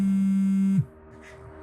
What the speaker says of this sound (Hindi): फोन किसका बजा है?